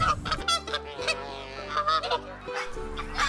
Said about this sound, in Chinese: 这里有很多的大鹅，大黄见到了以后啊，还觉得很欣喜，不知道大鹅叫啥意思